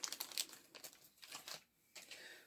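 Crinkling, tearing plastic packaging being bitten open in short bursts, close and fairly quiet, with brief pauses between rustles.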